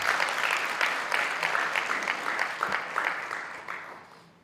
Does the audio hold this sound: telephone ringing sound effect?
no